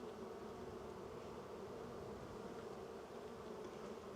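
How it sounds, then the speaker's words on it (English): Honey bees buzzing inside a hive during a mid-winter apiary inspection, a dense, continuous hum of many wings, close and steady but fairly quiet, with no voices. "These girls are scad bees."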